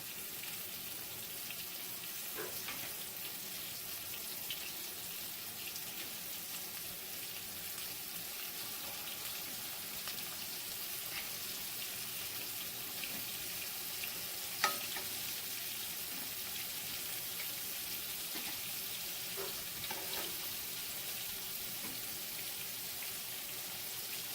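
Chicken nuggets coated in flour fry in a pan with a steady, close sizzle that carries throughout, broken by a few faint clicks and one brief sharp tap midway.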